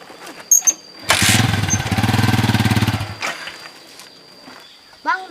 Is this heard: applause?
no